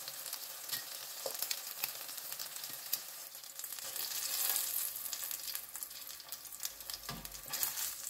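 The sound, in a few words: food frying in oil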